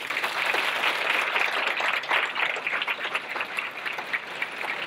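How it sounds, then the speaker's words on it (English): Audience applause at a Women's History Month luncheon, a steady moderate wash of many hands clapping throughout, with no talk over it. "So we'll start with the applause and we'll have them stand up."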